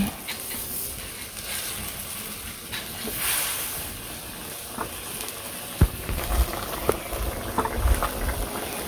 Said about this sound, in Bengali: এর মধ্যে দিয়ে দিলাম লবণ, মাছগুলো ছেড়ে দিই